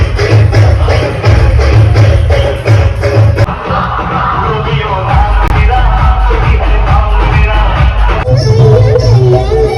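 A dense, loud crowd at a Ganpati visarjan procession in Morshi taluka, with continuous babble, yells and whoops over a heavy pounding rhythm, and a brief drop in intensity partway through.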